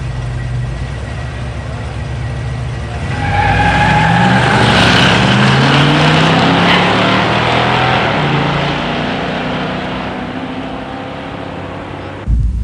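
A 1968 Mustang Shelby GT500 and a 1972 Trans Am 455 HO automatic drag race at a pure stock drag strip, engines idling, then roaring loudly together at launch and droning away as they recede.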